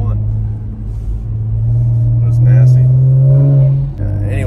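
A Chevrolet Camaro ZL1 rumbles close by with a deep, steady engine drone that swells louder midway, then eases off as it passes.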